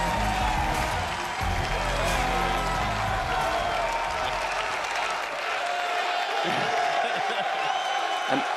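Large audience at the Xbox E3 2018 conference applauding and cheering, a dense sustained roar of clapping with scattered whoops, steady throughout, with a voice talking over it.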